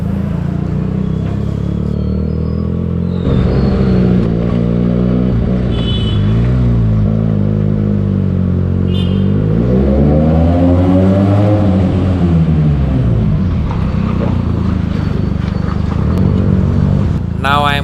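Benelli 300 motorcycle fitted with an Akrapovic exhaust riding on the Mumbai–Gujarat highway, its engine note steady and loud, rising and falling through revs with a rumbling, continuous drone throughout.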